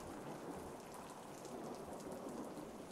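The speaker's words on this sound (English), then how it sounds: "Epic. thunder and rain." Steady, dense rain pours down without a break, a constant broadband hiss with a low rumble of thunder underneath.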